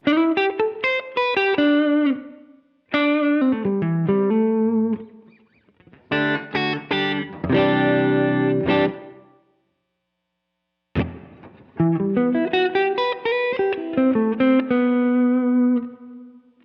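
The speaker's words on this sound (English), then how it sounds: "You can hear the reverb refactoring as I increase the decay there." Electric guitar chords and single notes played through a Strymon Cloudburst ambient reverb pedal, with the decay raised so the ringing tails stretch longer after each phrase into hall-like decays, including a lingering wash between bursts.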